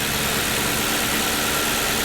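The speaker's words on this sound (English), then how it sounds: "Listen to that engine purr." A 2009 Ford Crown Victoria police car engine idles with a steady, even rumble and broadband hiss, unbroken from start to finish.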